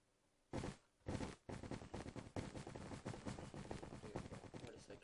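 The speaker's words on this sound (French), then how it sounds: "Feux d'artifice." Fireworks burst in a Minecraft PvP match on the Funcraft server, a loud opening double blast followed by a dense, continuous crackle of rapid pops sustained to the end.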